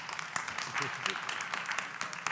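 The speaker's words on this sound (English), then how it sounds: "So can I have a round of applause for the panel?" Applause for a panel at the WASD 2022 event, a fairly faint, steady patter of audience clapping with voices speaking over it throughout.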